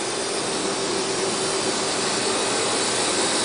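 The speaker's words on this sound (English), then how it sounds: "AFCS, which is an Advanced Facer Canceller. It faces the mail, cancels the stamp." A USPS Advanced Facer Canceller, which faces mail and inkjet-cancels stamps, runs in the Brooklyn Processing & Distribution Center as a loud, steady mechanical whir and hiss with a faint tonal hum throughout.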